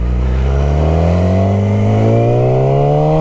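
A Yamaha R6 sport motorcycle engine revs up smoothly and loudly up close, its pitch climbing steadily through the whole short burst with no voices over it.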